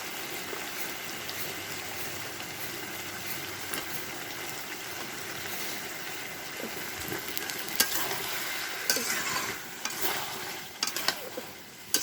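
Ridge gourd stir-fries in a spice paste in a home kitchen, a steady close sizzle with occasional scraping stirs and louder clicks of a utensil against the pan toward the end.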